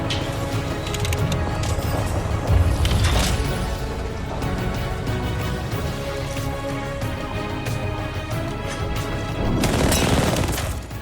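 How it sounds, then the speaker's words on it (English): Rapid gunfire in an Apex Legends firefight rattles through a dense, busy mix of game effects, with heavier bursts around the middle and again near the end. "Boys are shooting at me."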